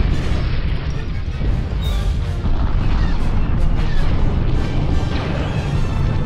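Massed weapons fire from a Homeworld 2 space battle against an Imperial destroyer, a dense, continuous barrage of booms and blasts that stays loud throughout, with no clear gaps.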